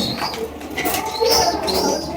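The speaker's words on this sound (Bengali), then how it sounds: "এখানে হচ্ছে আরো একটা গোল্লা কবুতর একটা হচ্ছে টাইগার গোল্লা একটা হচ্ছে রেড গোল্লা" Gola pigeons, a tiger gola and a red gola, coo softly up close, with low throaty calls mixed among faint chirps and rustles in a short stretch.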